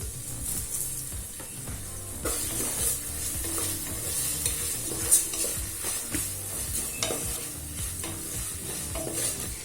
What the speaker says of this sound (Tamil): இப்போ உருளைக்கிழங்கு நல்லா வதக்கிக்கலாம்.